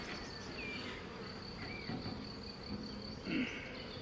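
Many bees buzz in a dense, steady drone at an opened beehive, close and fairly quiet, with individual bees whining past now and then.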